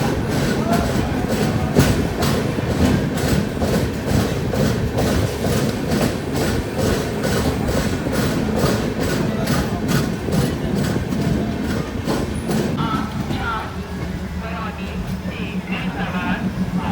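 The Amritsar Jaynagar Saryu Yamuna Express pulls out of a station with a steady, loud rumble and a rapid clatter of wheels that eases near the end, while voices talk in the background.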